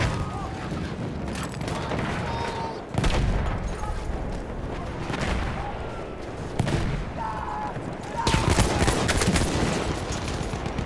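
Repeated video game gunshots crack out in loud, sharp bursts separated by pauses, with heavy booms and steady battle noise filling the gaps and occasional talking over the top.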